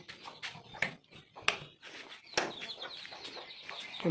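Several chickens cluck and squawk in short, irregular bursts, fairly close, with quiet rustling between calls.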